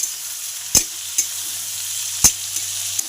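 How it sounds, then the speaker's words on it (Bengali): Onions fry in a pan with a soft, steady sizzle, broken by a few sharp taps of stirring against the pan. "পেঁয়াজটা ভাজা হচ্ছে"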